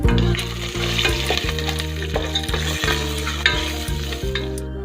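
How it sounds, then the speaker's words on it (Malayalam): Cashew nuts frying in three tablespoons of ghee in a pan for mango vermicelli kheer, a steady close sizzle with strong tonal hum and repeated stirring scrapes throughout. "അതിലേക്ക് നമുക്ക് 3 ടേബിൾ സ്പൂൺ നെയ്യ് ഒഴിച്ചു കൊടുക്കാം. കാഷ്യൂനട്ട് ഇട്ട് ഫ്രൈ ചെയ്തെടുക്കാം."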